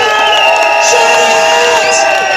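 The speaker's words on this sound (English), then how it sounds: "A round of applause. Big one! Come on, big, big, big!" A rally crowd against road closures in Tower Hamlets and Hackney cheers, whoops and claps, loud and continuous, with steady high-pitched tones running through the noise.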